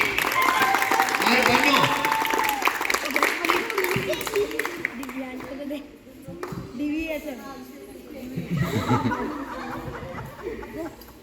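Audience clapping and laughter at a summer camp dance competition award, loud and busy at first then thinning into scattered claps, chuckles and chatter, with people talking over it.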